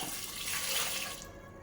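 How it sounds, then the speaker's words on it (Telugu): Water pours steadily into a cooking pot holding drumsticks (moringa pods) for rasam, a continuous close rushing splash that tapers slightly at the end. "ఆ డ్రమ్ స్టిక్స్ అన్నీ కూడా మునిగే వరకు మనము వాటర్ పోసుకోవాలన్నమాట"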